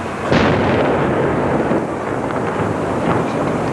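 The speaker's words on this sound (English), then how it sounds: "The blast could be heard 7 miles away" Car bomb of high explosives packed into a taxi detonating outside BBC Television Centre in London, one deep booming blast followed by a long rumbling roar and rolling echo, heard from a distance.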